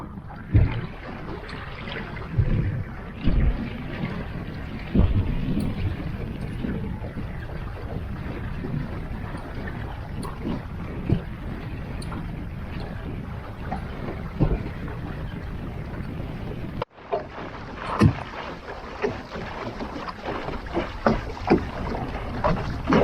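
A GP14 sailing dinghy out on Lake Windermere, with steady wind buffeting the microphone, water sloshing against the hull and occasional knocks and rattles of the boat, loud and close throughout.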